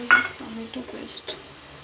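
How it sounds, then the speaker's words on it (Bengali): Soybean and potato curry with onion-tomato paste stirred in a pan, faint scraping and soft clinks of a spoon against the metal in a few brief strokes, with a quiet background. "তো 2-3 মিনিটের মতো নাড়ে নেব"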